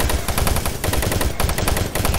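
Rapid automatic gunfire from a weapon in the first-person shooter Doom 3, used to shoot down a fireball in the Enpro Plant energy processing level; loud, dense bursts repeating steadily with brief gaps, no voices.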